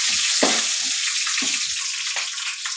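Cinnamon and cloves frying in hot oil until golden, a loud steady sizzle broken by several sharp stirring scrapes spaced about a second apart, close and without speech.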